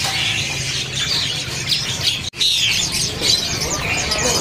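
Juvenile hill myna calling at a bird kiosk, giving loud, close squawks and harsh chirps in a continuous sequence with a brief break midway, over a busy background.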